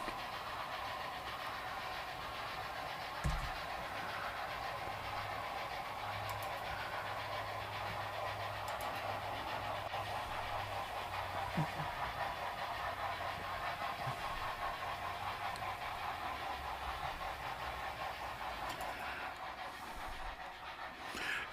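A model train runs continuously with a steady whirring rumble and faint clicking of wheels on track, fairly close, with no talking.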